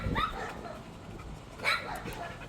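A dog at an animal shelter gives two sharp barks, one at the start and another more than a second later, fairly close and moderately loud against a quiet background.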